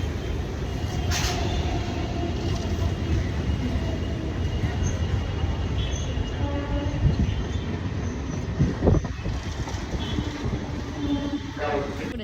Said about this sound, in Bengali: এই ট্রেনটাই না এর পরের ট্রেনটাই